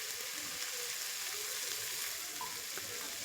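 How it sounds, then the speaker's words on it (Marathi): Water sprinkled over stuffed capsicums (bell peppers) frying in a spiced oil tempering, giving a steady, soft hiss and sizzle with faint crackles, close but quiet, with no speech. "आता पाण्याचा शिंपडा मारते."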